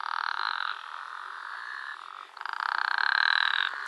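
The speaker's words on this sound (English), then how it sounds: "Wow, so many frogs again." Many frogs croak in a dense, continuous buzzing chorus in a traditional mud-built village in Oman, loud and steady with a brief dip midway and no voices.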